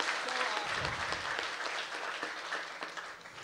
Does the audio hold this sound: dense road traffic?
no